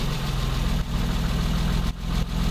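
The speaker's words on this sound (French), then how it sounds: "Ça a toujours bien démarré à froid." A BMW E30 engine idles steadily after a cold start, a loud, close, even rumble with a couple of brief dips.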